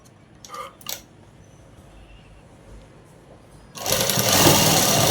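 After a few soft handling clicks in near silence, a sewing machine abruptly starts stitching a round seam on pants, a loud, steady, close whirring hum that continues to the end.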